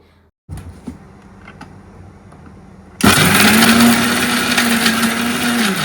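A kitchen mixer grinder spins up loudly on fried drumstick leaves in its jar, a steady close whirring motor that starts abruptly after a few quiet clicks and handling sounds.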